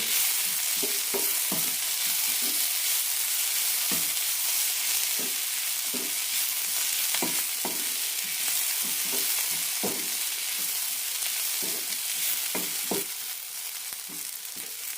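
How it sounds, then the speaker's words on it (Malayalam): Potato and fenugreek leaves stir fry sautéing over a high flame, a steady broadband sizzle running throughout with scattered scraping and stirring knocks from a utensil against the pan, close and fairly loud, no voices. "ഹൈ ഫ്ലെയിമിലിട്ട് നന്നായിട്ടൊന്ന് വഴറ്റാം ചെറുതായി ഒന്ന് മുരിഞ്ഞ് കിട്ടാൻ വേണ്ടിയിട്ടാണ്"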